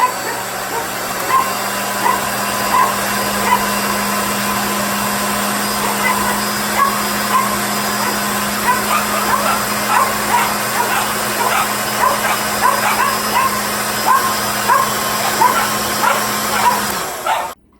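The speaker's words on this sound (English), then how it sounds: "Sorry about the dog barking." A dog barks and yips repeatedly, reacting to a kitchen blender, with the blender's steady whirring motor running loudly underneath throughout.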